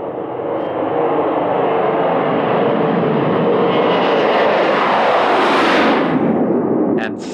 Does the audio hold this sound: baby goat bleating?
no